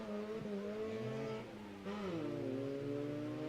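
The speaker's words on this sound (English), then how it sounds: "If you listen to Cheche's gear shifting, not as smooth as he would like it to be" Rallycross car at a race meeting in Kenya accelerating hard, engine pitch climbing in steady sweeps, dropping sharply at each gear change and rising again, with a slightly rough shift midway; loud and close throughout.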